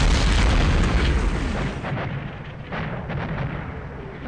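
Heavy artillery fire in the SP:WaW wargame replay, a loud, continuous rumble of booms that swells at the start and then rolls on in overlapping distant thuds, with no speech.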